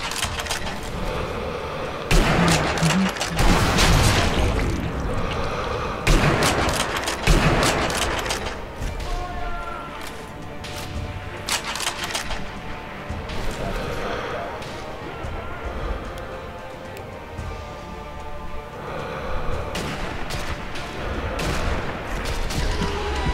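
Gunfire and sniper shots in the shooter Sniper Elite V2 during co-op play: repeated sharp, loud shots and bursts scattered through a dense game soundscape, with people talking throughout.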